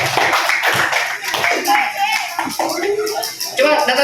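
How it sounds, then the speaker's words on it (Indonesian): A classroom audience applauds, sustained clapping from a group heard close and steady over about four seconds, with voices mixed in. "Oke, kita kasih aplaus untuk pertemuan."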